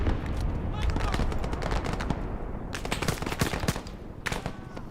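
Dense automatic and machine gun fire in the Vietnam-era Arma 3 Prairie Fire video game, with loud repeated bursts and single shots throughout, a voice calling out over the gunfire.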